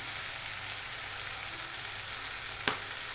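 Instant noodles stir-fry in a pan as dark sauce goes in, a steady soft sizzle with one brief sharp tap of a utensil, close by and with no voices.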